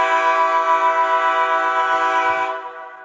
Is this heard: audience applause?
no